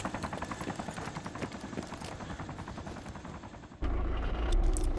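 Rapid automatic gunfire in ARMA 2 rattles in a dense, continuous burst for several seconds, then a louder rumbling engine-like roar takes over near the end.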